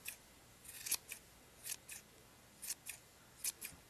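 Scissors snip around a yarn pom pom, trimming it into a round shape; short, crisp cuts come close and fairly loud in small irregular bursts, some in quick pairs, with quiet pauses between and no talking.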